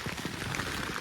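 Rain drums steadily on a Terra Nova Northern Lite 2 tent during a storm, a dense close patter with no talking.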